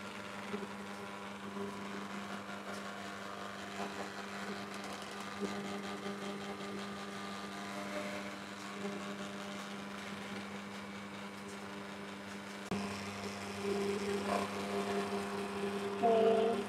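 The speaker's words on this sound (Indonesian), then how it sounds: "Kita mixer dulu sampai dia halus." A kitchen mixer runs continuously, blending hot pempek fish dough made with anchovies, producing a steady droning hum with little change and a slight rise in loudness toward the end.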